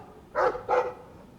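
Two short, close barks from a dog in Dragon Age II, evenly spaced and clear against a quiet background.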